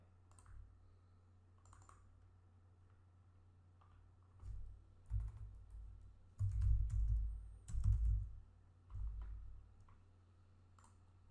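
Typing on a computer keyboard while working in CAD software, heard as sparse clicks that build into a busier run of keystrokes, near and fairly quiet.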